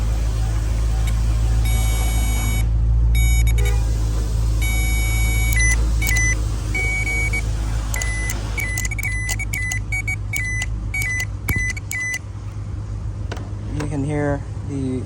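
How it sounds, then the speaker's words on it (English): A Ford Explorer evap purge valve with fault codes is powered on the bench and clicks open and shut in short rhythmic bursts, each burst carrying a buzzing tone, over a steady low hum; a person speaks toward the end. "You can hear the valve in here open and close when I put power into it."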